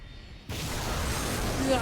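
Fictional Triton engine of a ship firing up for launch: a sudden broad roaring blast that cuts in after a brief quiet moment and holds steady, loud and close, with a faint tonal whine rising near the end.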